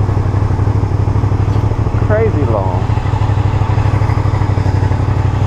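A motorcycle cruises through Manhattan Beach, California, its engine a steady, loud mid-range drone under the rider's ongoing talk, with wind noise throughout.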